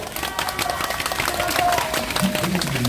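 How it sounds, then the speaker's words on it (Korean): Outdoor crowd at a Wednesday rally claps briefly in a short, lively burst of scattered applause, fairly close, with a little background noise mixed in. "다시 한번 힘찬 박수 부탁드립니다."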